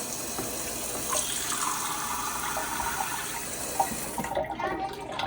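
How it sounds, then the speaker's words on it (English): Steady rush of tap water pouring into a glass, continuous and fairly quiet, with a brief shift in tone as it fills near the end. "I'm going to fill this glass with our regular tap water"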